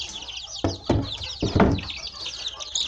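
Young free-range chicks and ornamental hens in a backyard coop, with a high busy chorus of peeping and chirping close by, broken by a few louder thumps and rustles from the enclosure.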